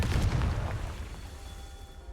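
A Confringo spell explosion in the video game Hogwarts Legacy: one loud, deep boom at the start that rolls away and fades into a lingering low rumble.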